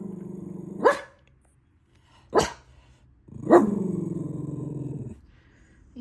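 Dog barking at squirrels in a tree on a sunny day, three sharp barks with the last one trailing into a long, low growl, close and clear with no talking.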